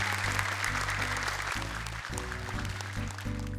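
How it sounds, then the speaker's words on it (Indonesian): Audience applauding two young Quran-memorization contestants on an Indonesian televised competition stage, a dense steady clapping that fills the whole stretch with music tones underneath. "Boleh tepuk tangan untuk keduanya."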